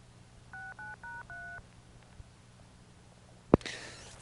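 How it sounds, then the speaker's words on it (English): Four short touch-tone dialing beeps from a 1983 Centrex telephone line sound in quick succession over faint line hiss, followed by a sharp click. "Touch tone a little bit."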